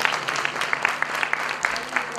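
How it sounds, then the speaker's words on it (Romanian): A folk concert audience applauds with scattered sharp hand claps over a low, steady room murmur. The applause is moderate and somewhat distant and lasts about two seconds. "Puteți să-i aplaudați."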